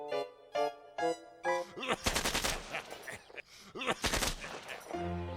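Two bursts of rapid, crackling gunfire rattle out loudly in quick succession, set between sustained tonal notes at the start and end.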